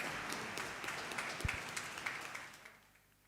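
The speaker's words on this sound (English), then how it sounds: "a huge round of applause for this lovely lady" Applause for the chairperson at an inter-school debate meet, a fairly faint, steady patter of clapping from an audience that fades out toward the end.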